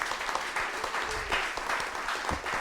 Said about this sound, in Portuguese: vamos aplaudir todo o trabalho da Lia